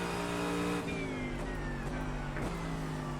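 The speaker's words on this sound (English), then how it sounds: "Really trying to rev this thing out." A race car engine revs hard in the iRacing sim during a sprint race at Zandvoort, a loud continuous whine climbing in pitch, then dropping briefly at several gear shifts.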